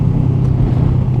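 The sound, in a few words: Kawasaki Ninja 650R motorcycle engine revving while downshifting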